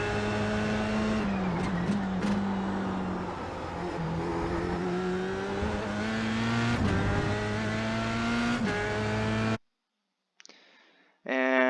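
Formula Sprint race car in iRacing, its engine screaming flat out through the Lime Rock chicanes, pitch dipping and climbing with gear changes and revs, loud and close for about nine seconds before cutting to near silence with brief bursts.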